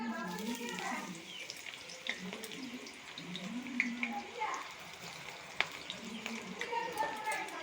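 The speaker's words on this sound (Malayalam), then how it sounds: "നമുക്ക് ഇതിലേക്ക് ചക്ക അരിഞ്ഞത് ഇട്ട് കൊടുക്കാം." Chopped jackfruit pieces go into hot bubbling oil for homemade chips, giving a steady crackling sizzle with scattered pops beneath a person talking.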